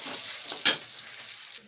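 Coarsely ground peanut powder roasts in a pan with a soft, steady dry sizzle. A single brief scrape from stirring stands out near the middle.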